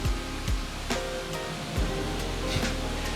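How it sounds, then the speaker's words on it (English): Kusang Waterfall in Nan National Park, Thailand, fed by hot springs upstream, pours in a steady, close rushing roar of water with a few soft thumps, and no voices. "Kusang Waterfall."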